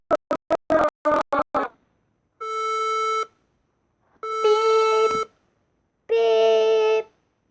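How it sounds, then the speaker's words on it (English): An Emergency Alert System alarm sounds as three long, loud harmonic attention tones, each about a second, following a rapid burst of short data-burst beeps, with no talking. "Just a beep."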